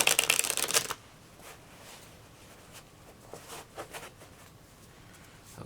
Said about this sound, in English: Maybe I can shuffle it up again.